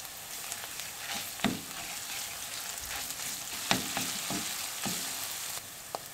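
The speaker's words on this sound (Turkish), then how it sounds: "Ve soğanlar yumuşayana kadar kavuruyorum" Onions sautéing in oil with a spoonful of pepper paste, a soft steady sizzle close by, broken by a few sharp spoon knocks and stirs against the pot.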